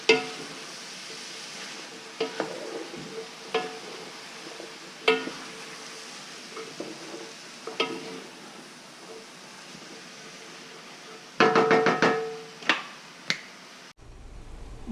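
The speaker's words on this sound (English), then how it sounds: "we'll stir this and we'll saute it until the vegetables are translucent" Diced vegetables and jalapeno sautéing in a pan, a soft steady sizzle punctuated by sharp scraping clicks of stirring, with a louder burst of clatter toward the end.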